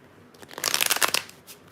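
Tarot cards are riffle-shuffled in a quick, crisp burst of papery flutters that builds to a dense rattle and then tapers off, close and fairly loud, with no talking during it.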